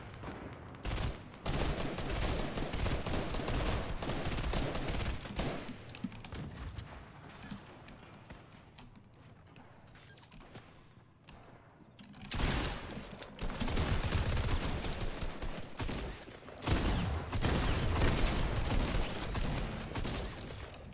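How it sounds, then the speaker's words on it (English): Bursts of rapid gunfire in a Fortnite match, loud volleys with a lull in the middle before heavy shooting resumes, no talk over it. "Team Trout was shooting at me"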